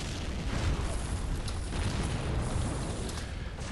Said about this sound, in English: there goes the rocket artillery